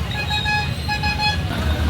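Busy road in a pilgrimage crowd for Ashadhi Ekadashi, heard as a steady roar of traffic with several loud, sustained car horns honking in overlapping blasts throughout.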